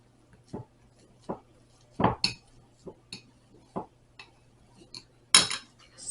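Metal cutlery and dishes clatter in a kitchen as a spoon is fetched, a string of sharp clinks and knocks with a louder rattle near the end, no voices.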